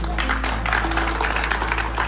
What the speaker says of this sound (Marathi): इथे जोरदार टाळ्या आपल्या या 1996-97च्या बॅचसाठी